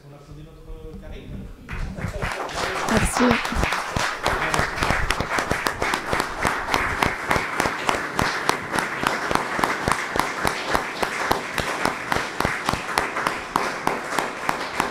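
An audience at a conference in Belgium applauds a speaker, a steady sustained ovation with quick overlapping claps that starts after a brief word from a voice and continues to the end.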